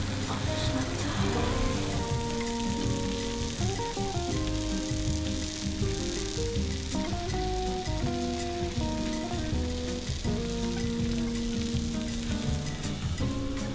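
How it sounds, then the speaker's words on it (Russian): A freshly baked homemade pizza just out of the oven sizzles with a constant soft crackle, heard under steady background music with no talking. "На камеру даже, наверное, шкварчание слышно."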